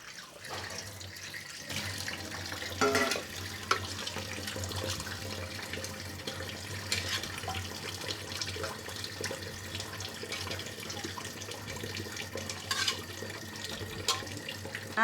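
Fish is washed under a running kitchen tap, with water splashing steadily into a sink and occasional knocks and handling noises, close and moderately quiet.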